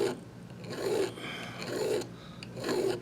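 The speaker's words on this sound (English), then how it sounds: "I'm just going to file until I get it short enough" A metal file rasps back and forth across a spacer rivet to shorten it, with three steady, close strokes separated by brief pauses.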